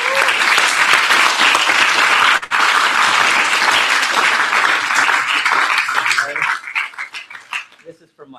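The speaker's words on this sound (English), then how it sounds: "Can we round of applause for attention?" An indoor audience at a business meeting breaks into sustained clapping that stays full and dense for several seconds, then thins into scattered claps and fades out.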